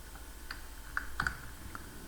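Keyboard keys being pressed while entering a sum formula in an Excel spreadsheet, with a few soft, scattered clicks and a slightly firmer pair of taps, all faint against a quiet room.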